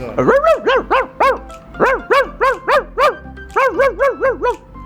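A man, a rickshaw driver in Lahore, imitates dogs barking with his voice: about fourteen sharp, loud yelping barks in three quick bursts, close and clear, with short pauses between the groups.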